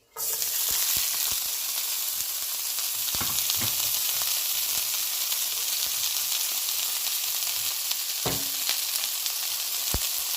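Jamaican jerk seasoning sizzles loudly and steadily in a pot alongside cooked shrimp, a bright continuous frying hiss with a few soft stirring knocks and clinks near the end.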